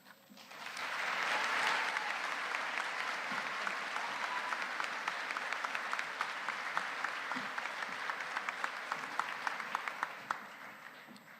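Sustained audience applause at a Highland Community College commencement ceremony, rising quickly to a steady, full wash of many hands clapping that holds for about ten seconds before tapering, with no talk over it.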